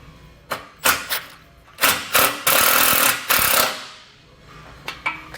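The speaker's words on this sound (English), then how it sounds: "take your self-tapping screw, slide it through it, and then just run this up into the hole that we made on the bottom" A powered driver with a 3/8 socket runs a self-tapping screw into the underside of a 2011 Jeep Patriot while fitting a Blue Ox base plate, giving several loud short whirring bursts and then one longer sustained run, close up.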